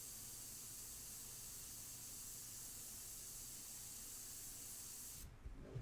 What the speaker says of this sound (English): So that's why I feel my airbrush is really good, because it's the best of both worlds.